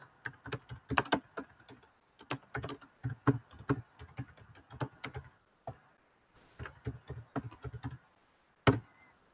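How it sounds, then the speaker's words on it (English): Someone types on a computer keyboard up close, with quick runs of light tapping keystrokes broken by short pauses and a final louder key press. "I will type my email address here."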